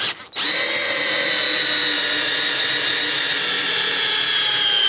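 A Parkside cordless screwdriver drives a screw, a loud, close, steady high-pitched motor whine that starts after a brief hesitation and holds strained but unbroken to the end; no talking.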